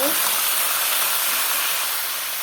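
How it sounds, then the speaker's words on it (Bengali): Ridge gourd poured into a hot pan with fish and potato, producing a loud, steady hiss and sizzle of frying from start to finish. "ঝিঙ্গাগুলো ঢেলে দিলাম"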